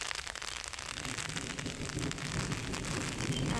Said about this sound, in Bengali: এই যে আমাদের এলাকায় দেখুন কি পরিমাণে ঝড় আরও বৃষ্টি পড়ছে।